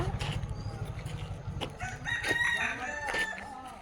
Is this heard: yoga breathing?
no